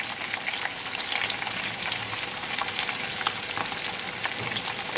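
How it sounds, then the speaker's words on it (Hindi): Chicken pieces fry for a Peshawari chicken pulao, with a steady, dense sizzle in hot oil that crackles evenly and close throughout, with no talking. "इस तरीके को मैंने फ्राई कर लिया, हल्का हल्का गोल्डन कलर ऐसा"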